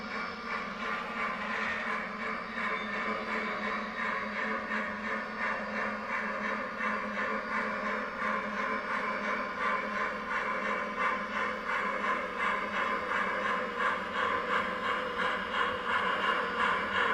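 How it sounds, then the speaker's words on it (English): Model trains run on a layout in a steady, continuous clatter and mechanical whir, with rhythmic clicking of wheels over track joints that grows slightly louder toward the end, with no voices. "Now we'll end the video by running some trains."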